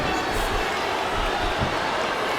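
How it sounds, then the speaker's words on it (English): Steady, dense crowd roar from a wrestling arena in the WWE SmackDown vs Raw 2007 video game on Xbox 360, a constant loud wash of cheering with no clear breaks. "I love hearing the crowd come alive"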